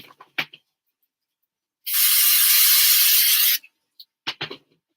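A steady, hissing spray from an aerosol can, lasting under two seconds, bracketed by a few soft clicks and handling sounds.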